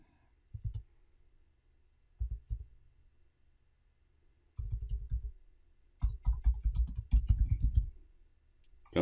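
Fingers type on a computer keyboard in short clusters of clicking keystrokes, with quiet gaps between bursts and a longer, denser run of typing near the end, close and fairly faint.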